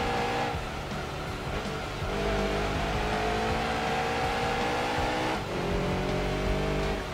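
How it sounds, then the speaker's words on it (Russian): A Chevrolet Corvette race car in Gran Turismo 2 roars steadily through an endurance race at Apricot Hill, its engine pitch climbing and dropping with gear shifts and no voices over it. "Заодно вот послушайте рев двигателя. И корвет вообще как себя на трассе ведет."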